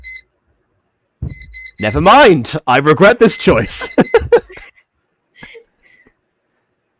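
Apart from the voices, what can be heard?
alarm clock ringing in a reviewed video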